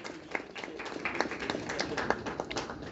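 Scattered clapping for golfers at an evening ceremony of a professional golf tournament in Jammu, fairly quiet and uneven, a modest group of hands rather than a roaring crowd.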